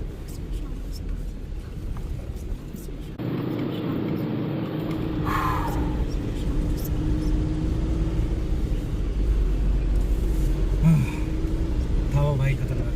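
A car jolts and rumbles along a rough, dangerous mountain road on the Chhatru to Khoksar stretch toward Spiti, a steady low engine and road roar filling the cabin with occasional bumps and knocks as people talk over it.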